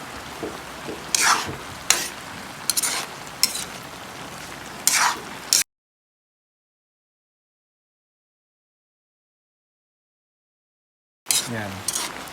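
Chopsuey vegetables stirred in a pan, with sharp spatula scrapes and knocks over a soft simmer, a long stretch of silence in the middle before the stirring resumes.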